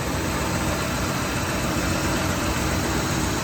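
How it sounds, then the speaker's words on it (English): A 1965 Ford Mustang with an aluminum intake and Edelbrock carburetor idles smoothly, a steady, even engine rumble with no talking over it. "Engine runs very, very smooth."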